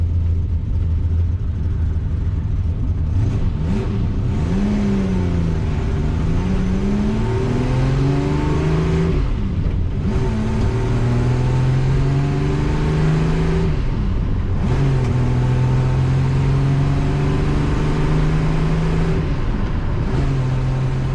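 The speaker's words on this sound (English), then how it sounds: "I really like about 250 GTEs or 250 engines is they really spin up" A Ferrari 250 GTE V12 engine, cold, revs repeatedly, pitch climbing and falling in several sweeps over a steady idle, loud and close with no talking.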